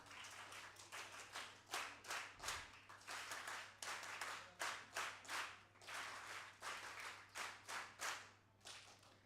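An audience at a youth parliament event in Hyderabad claps for the three winners, a steady run of individual handclaps from a modest crowd, fairly close and continuing throughout.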